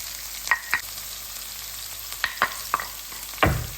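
Green chilies and coarsely ground coriander fry in hot oil, a soft steady sizzle broken by several sharp clinks and scrapes of a spoon stirring the pan, with no talking.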